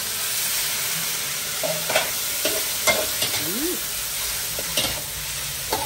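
Morning glory and little beans hiss loudly in a very hot pan on Koh Yao Noi, with repeated scraping and clanking of a spoon as they are stir-fried, close and busy with no talk.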